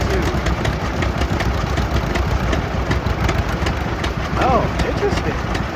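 An unstyled A tractor roars continuously as it hauls a deadweight at a pulling event on loose sand, a loud, rough, steady engine noise with voices faintly mixed into the din.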